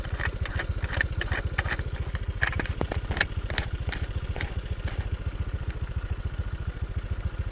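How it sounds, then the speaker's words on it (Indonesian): A Honda Vario FI 125 scooter engine runs at a steady idle with a fast, even, close putter, plus a few light mechanical clicks and clatters. "test drive Vario FI 125"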